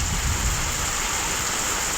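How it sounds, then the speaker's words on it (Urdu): Heavy monsoon rain from a cloudburst pours down in a dense, loud, unbroken hiss that fills the whole scene, steady from start to finish with no voices. "شدید ترین بارش"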